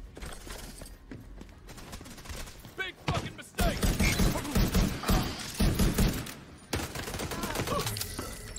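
An automated turret fires in The Division 2, loud rapid bursts of gunfire with thuds, broken by a short pause and then a heavier, sustained volley in the middle.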